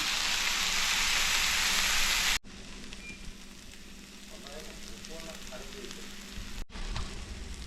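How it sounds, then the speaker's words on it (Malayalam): Onion, tomato and green chillies sauté in a pan for a beef and rib curry, giving a loud broadband sizzle for the first two seconds that then cuts to a quieter, steady frying hiss with a few faint clicks. "അപ്പം നമ്മുടെ ഉള്ളിയും തക്കാളിപ്പഴവും എല്ലാം നന്നായിട്ട് വഴറ്റി എടുത്തിട്ടുണ്ട്"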